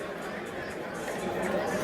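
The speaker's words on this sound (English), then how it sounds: "So hear the crowd here." Crowd chatter and murmuring at a live boxing event in Glen Burnie, Maryland, as a bout comes to a close; a steady, moderately loud wash of many voices that swells slightly toward the end.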